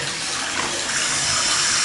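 Water running hard from a faucet during plumbing work, a loud, steady rushing hiss that holds constant throughout, close by and without talk.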